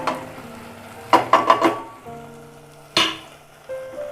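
Spice powders for a spicy bean curry hiss softly in hot oil in a pan, punctuated by a few sharp clinks and scrapes of a spoon stirring against the metal.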